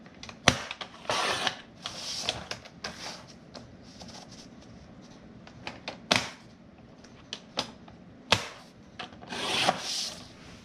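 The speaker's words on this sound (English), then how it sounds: "Then I'll start trimming at 3 inches across my board." Contact paper being trimmed across a board: close, uneven strokes of cutting and rubbing with scattered sharp clicks and taps, heard alone without talk.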